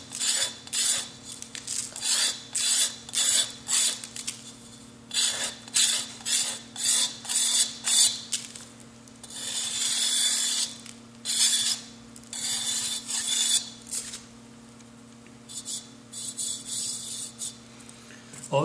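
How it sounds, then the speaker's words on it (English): A kidney rib scrapes excess glaze from the rim of a pottery bowl in repeated short rasping strokes, close and fairly quiet, with brief pauses between passes. "I'm going to use the kidney rib to carefully scrape up the excess glaze from the rim"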